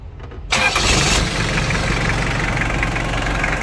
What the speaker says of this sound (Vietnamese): tôi sẽ nổ máy cho anh em nghe nhé